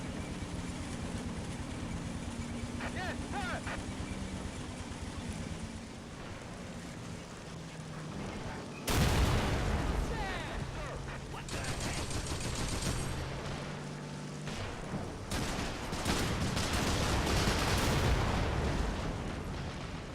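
Enemy gunfire in Men of War: Assault Squad 2: rattling bursts and heavy booming shots come in clusters over a constant battlefield rumble, with several louder volleys near the middle and end.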